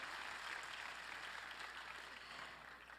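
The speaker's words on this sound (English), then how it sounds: "Give a big round of applause." An audience in a hotel ballroom at a conference gives a big round of applause, a steady, even wash of clapping lasting about three seconds and tapering slightly at the end.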